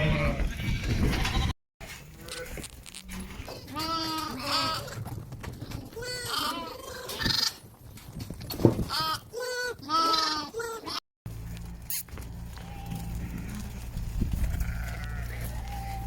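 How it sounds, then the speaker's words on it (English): Ewes and lambs being sorted and run through a pen, bleating repeatedly and loudly at varied pitches, overlapping calls close by, with scuffling and handling noise between. "We've just brought in the ewes and lambs, split out the lambs and have a sort out, so we're just racing them through."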